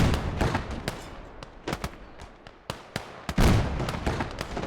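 Gunfire from units in a video game, a scattered series of sharp shots and bursts at varying distances over a low battle rumble.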